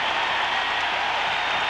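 Hockey arena crowd roaring and applauding during a fight between the Flyers and their opponents, a dense, steady wash of cheering from a large audience with no pauses.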